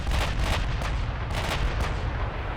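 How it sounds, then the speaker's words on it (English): Warship main guns firing armour-piercing and high-explosive shells in a naval battle video game, heavy booming blasts rolling into one another, loud and continuous with deep rumble and no talking. "We're firing a mix of AP and HE."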